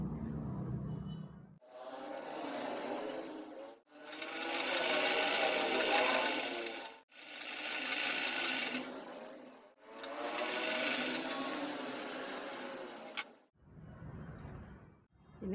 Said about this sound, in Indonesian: Ini selanjutnya kita jahit.